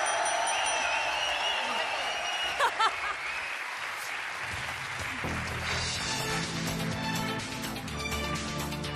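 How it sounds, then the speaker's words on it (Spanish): A live studio audience bursts into loud, dense applause for a late-night debut, clapping for several seconds before music rises and takes over. "¡Aplausos!"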